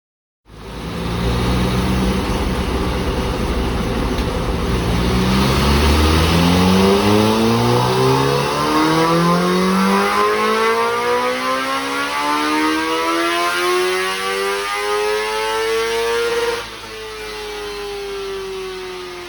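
A Ducati Panigale V4S on a race dyno revs hard and loud through rising sweeps, its engine pitch climbing steadily before easing back to a lower drone near the end, with no talk over it.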